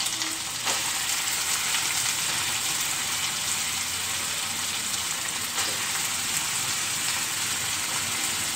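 Ridge gourd pieces sizzle and fry steadily in oil with ginger garlic paste, a dense, continuous crackle close by, alone without talk.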